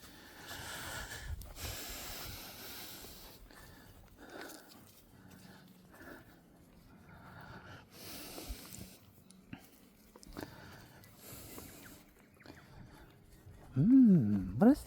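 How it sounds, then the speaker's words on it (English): A dog out on a neighborhood walk sniffs and snorts in short, quiet bursts close by, with a louder cluster of snorts near the end; someone speaks softly in between. "You're making all those sniffling noises."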